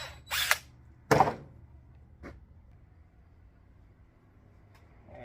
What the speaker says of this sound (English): you just use the drill like that